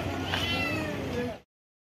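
A kitten gives one drawn-out, high meow lasting over a second, close and fairly loud, before it cuts to silence.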